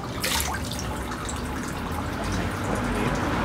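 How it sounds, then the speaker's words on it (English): Water trickles and splashes from a ladle over cupped hands at a temple purification basin in Kyoto, Japan, soft and close with faint drips, no talking. "A fair bit of water in the cup. We want to have enough of five things. The first is to wash our left hand."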